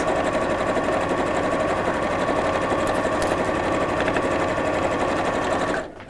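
A sewing machine stitches a fabric drawstring bag in a steady, continuous buzzing run that holds loud and close, then cuts off abruptly near the end.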